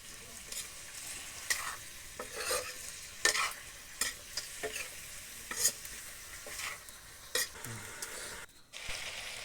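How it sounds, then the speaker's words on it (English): Village-style beef stirred in a pot over a high flame, a steady sizzle and frying crackle broken by repeated scraping stirs and occasional clanks of the utensil, close and fairly quiet. "Now stir again and again in high flame"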